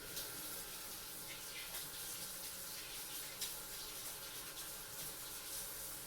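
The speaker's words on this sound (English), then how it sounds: "I'm going to wash my hands and put on my gloves." Tap water runs steadily from a faucet while hands are washed beneath it, a continuous close hiss and splash with no talking.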